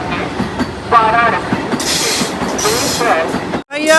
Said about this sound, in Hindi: ये है भारत रेलवे की दुलरवा वंदे भारत एक्सप्रेस।